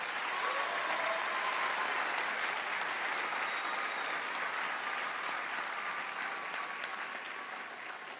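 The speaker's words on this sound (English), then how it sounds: "Let's give another thunderous applause for all of your team." An audience at a youth academy graduation ceremony gives the graduates' team sustained applause, a broad, even roar of many hands clapping together that slowly eases off toward the end.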